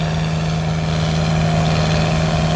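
A 1989 German-built tractor running at a silage day on Valentia Island, with a steady loud engine drone and a strong low hum, no voices.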